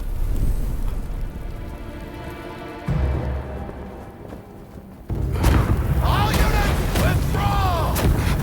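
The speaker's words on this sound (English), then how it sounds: "These British cannons pack quite a punch" British cannons firing in the video game Rise of Ronin, heavy booming blasts that land around the middle of the clip, followed by loud crackling battle noise and sharp whistling streaks at close range.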